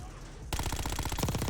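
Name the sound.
submachine gun (SAUG) firing in Black Ops video game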